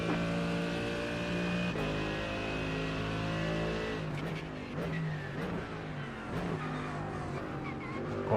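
McLaren race car at Suzuka in a racing video game, its engine a loud steady high-pitched drone with shifting pitch, nearby cars passing and occasional brief bursts in the second half.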